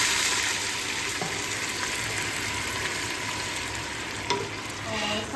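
Ginger garlic paste and garam masala spices sizzle steadily in a pot, a continuous close frying hiss with occasional stirring scrapes and a few small splashes.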